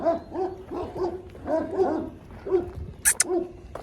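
Young farm dogs barking in a rapid run of sharp, close yips and barks, with a couple of brief higher-pitched yelps near the end.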